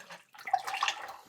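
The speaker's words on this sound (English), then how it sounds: "I'm just going to pour the glaze into this pitcher," Pottery glaze poured into a pitcher, heard close up as a short liquid trickle and splash that builds after a brief pause and then tapers off.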